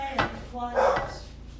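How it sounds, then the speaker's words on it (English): Dogs bark a few times indoors as a lawn crew arrives, short loud yaps mixed with kitchen clatter, close and brief. "Our lawn crew just got here, so the dogs are going to be crazy for a bit."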